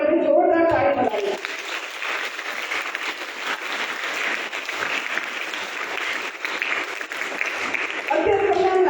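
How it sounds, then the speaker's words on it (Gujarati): A yoga summer camp audience breaks into loud, sustained applause for their teacher Vrundbhai, dense clapping lasting several seconds, with a voice talking just before it begins and again as it fades. "તો વૃંદભાઈ માટે આપણે જોરદાર તાળી બતાવીએ"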